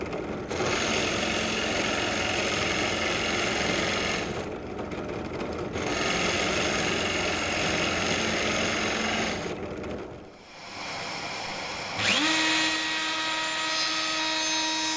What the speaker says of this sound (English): I'm just taking out some of the wood with a Forstner bit before I route it out.